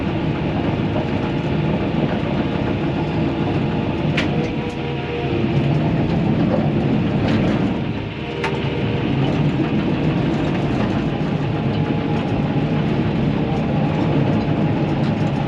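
A heavy earthmoving machine pushes clay dirt downhill while a house lot is leveled, its engine a loud, steady, close drone with grinding undertones that dips briefly near the middle before resuming, with no talking.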